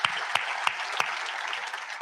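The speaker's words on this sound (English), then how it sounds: "So big round of applause for Commissioner Gowan." Crowd applause at a city's state-of-the-city address, a dense steady wash of many hands clapping with a few sharper individual claps standing out, continuous for about two seconds.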